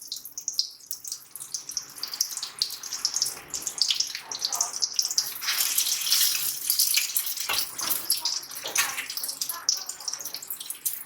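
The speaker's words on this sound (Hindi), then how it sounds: "अब जो कबाबें हमने बनाई है ना, इसको हम अंडे में डिप करेंगे, उसके बाद इसे तेल में अच्छी फ्राई करेंगे।" Raw mince kebab cutlets dipped in egg sizzle and crackle in hot oil, a continuous hissing fry that swells and fades, with someone talking at times over it.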